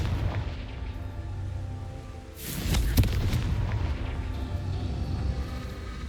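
A Confringo blasting spell explodes in the video game Hogwarts Legacy, one sudden loud boom that swells and rumbles away over a low ambient drone.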